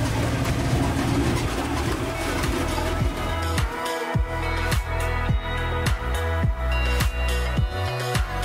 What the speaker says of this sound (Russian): Самый прикольный трансфер — это трансфер на тракторе до пляжа.